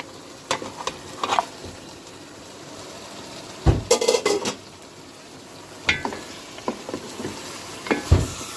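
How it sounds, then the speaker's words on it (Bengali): Chicken pieces fry in a pan with papaya and spices, with a steady low sizzle broken by several bursts of metal spatula scraping and stirring. "পাঁচ মিনিট মতো মাংসটা আমি কষিয়ে নেব"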